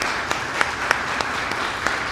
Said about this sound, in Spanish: Quiero pedirles, por favor, un aplauso para Miguel Collado,